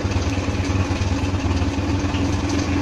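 A motorcycle engine idling steadily at close range, a low continuous rumble with a faint rattling texture and no voices.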